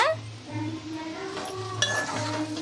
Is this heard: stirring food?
yes